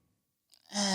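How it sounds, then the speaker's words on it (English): A single breathy exhale through the mouth during a yoga practice, starting softly and swelling into a loud, sustained airy rush at the end. "And exhale through the mouth, let it go."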